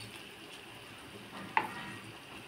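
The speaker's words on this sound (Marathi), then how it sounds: "आता ती व्यवस्थित परतून घ्यायची, छान अशी तेलामध्ये भाजून घ्यायची" Onion and ginger-garlic paste frying in oil, a faint even sizzle with a single louder clink of a utensil against the pan near the middle, heard close without any talking.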